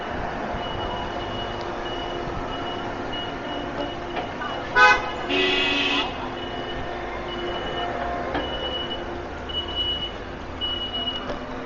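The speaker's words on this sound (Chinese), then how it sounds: "这边居然还堵车了。" Car horns sound amid a holiday traffic jam at a district gate in Guangzhou: a sharp honk, then a longer blare midway, over a constant rumble of idling traffic.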